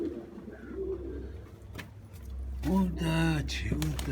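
Domestic pigeons coo in low, soft, rolling calls, growing louder and fuller toward the end, with faint background sounds and a person speaking nearby.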